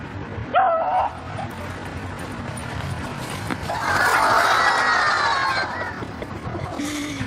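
A small dog named Chewie, wearing little footies, gives a short whimpering yip and some scuffling, followed by a longer stretch of noisy rustling and shuffling at close range.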